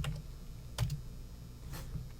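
Someone types a short search on a computer keyboard, a few crisp key clicks spaced apart with a brief cluster near the middle, close and fairly quiet, with no talking.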